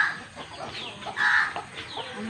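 A few chickens cluck nearby in short, uneven bursts of clucks and squawks, fairly close, over light background noise with no clear talk.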